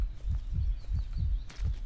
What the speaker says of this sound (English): Why is heart beating much faster?